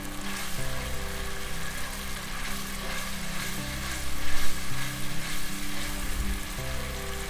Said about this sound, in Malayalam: പിന്നെ ഹൈ ഫ്ലെയിമിലിട്ട് 2 മിനിറ്റ് ഈ സോസ് ഒന്ന് സോട്ട് ചെയ്തെടുക്കാം.